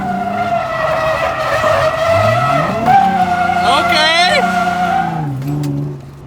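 A worn Nissan G35 drifts on a track, its tires squealing in long sustained skids over a revving engine drone, loud and close, with a brief shift in engine pitch midway.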